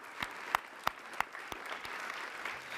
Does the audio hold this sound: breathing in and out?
no